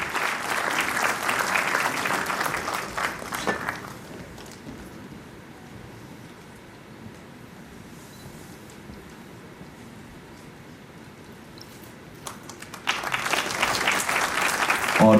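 Loud applause from the audience at an IGNOU regional convocation in Srinagar, a heavy burst of clapping that fades after a few seconds into a quiet hall, then returns strongly near the end.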